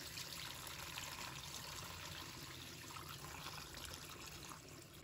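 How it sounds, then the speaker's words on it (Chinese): Clean tap water pouring steadily into a basin holding Chinese kale with salt and baking soda, a continuous close splashing rush with no talking. "倒入清水。"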